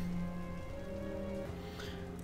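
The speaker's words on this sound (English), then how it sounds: "so it's rainy and it's foggy." Steady rain falls in the Empire Total War video game, a soft, constant patter under low sustained tones of game music, with no talking.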